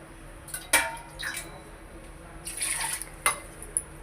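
Water is added in short splashes to a simmering tomato saar tempered with asafoetida and garlic, a few distinct liquid bursts with light clinks of a vessel between them, moderately close, no voices.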